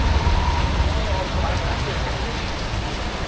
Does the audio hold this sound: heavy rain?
yes